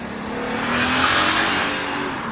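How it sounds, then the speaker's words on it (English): A car drives past outdoors, its engine and tire roar swelling to a loud peak midway and then easing off, a steady broadband rush with no voices. "not as fast as that car that just went by"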